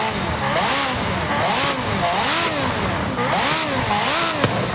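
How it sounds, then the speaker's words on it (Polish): A V12 car engine in the Forza Horizon 5 racing game revs repeatedly, pitch rising and falling in steady swells, loud and continuous with no speech. "Jak V12 startuje."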